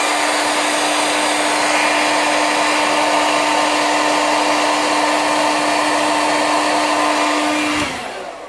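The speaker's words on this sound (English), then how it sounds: "I blow dry because I think that it adds to your curl and blows off any fibers that did not attach" A hair dryer blows steadily and loudly up close for about eight seconds while drying fiber lashes, a constant whooshing roar with a steady motor whine, then switches off abruptly near the end.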